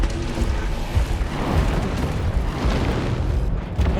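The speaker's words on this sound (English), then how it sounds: "How did that missile hit me?" Missile explosion striking a player's robot in War Robots: Frontiers, a loud continuous rumbling blast with crackling bursts, sustained for several seconds close by, with no talking.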